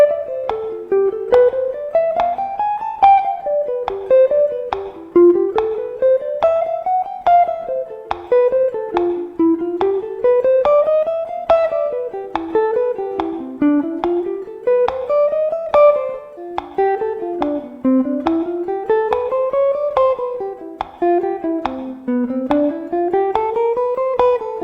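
Guitar playing a scale with a chromatic note in flowing five-note groupings, clean single notes rising and falling in steady even waves, played alone at a moderate tempo.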